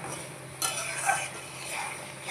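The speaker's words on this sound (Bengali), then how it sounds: "মশলাটাকে আমি সুন্দর করে একদম তেল ছাড়া ছাড়া হবে সেরকমভাবে কষাবো।" Spice paste being sautéed in oil in a pan, with a steady low sizzle and occasional scraping stir strokes, close and fairly quiet, no talking.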